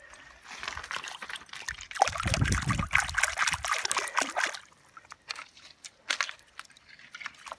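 Water from a river in eastern Montana trickling and splashing as rocks are rinsed by hand, close and irregular, swelling into a fuller wash in the middle before breaking into scattered drips and small splashes.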